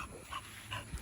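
An American Bully dog gives a couple of short yips, close by and fairly quiet, with no talk.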